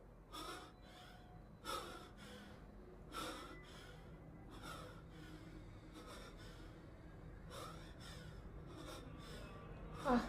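Heavy, ragged panting from an anime character in Jujutsu Kaisen episode 33, a run of sharp gasping breaths and snorts that repeat in bursts over a steady soundtrack bed, with no talk over it.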